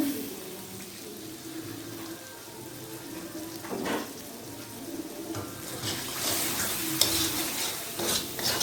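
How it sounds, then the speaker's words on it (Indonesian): Vinegar being poured and stirred into a Malaysian cucumber pickle in a pan, a faint wet sizzle with soft scraping and clinks of a utensil against the pan, growing busier toward the end. "Dan saya akan masukkan cuka ya. Masukkan cuka secukupnya."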